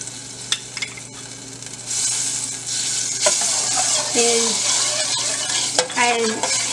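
Half a tablespoon of oil and a tablespoon of butter heating in a pan, a steady bright sizzle that builds midway, with a few clinks of a utensil against the pan.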